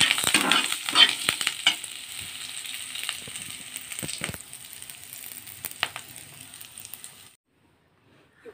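Cumin seeds and curry leaves sizzle and crackle in hot frying oil in a pan for tamarind chutney, with a stirring spoon scraping at intervals before the sound cuts off abruptly near the end.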